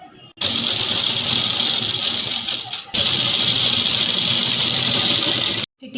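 An electric sewing machine runs at a fast, steady whir while stitching the shoulder seam of a kurti, close and loud, in two long continuous runs separated by a brief pause.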